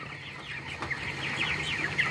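Broiler chickens on a poultry farm cluck and peep in a steady overlapping chorus of many birds, with sharper individual calls cutting through near the end.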